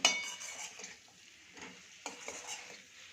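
A spoon stirs ivy gourd (tindora) curry in a pan, giving soft scraping strokes and light clinks over a gentle sizzle, close and fairly quiet.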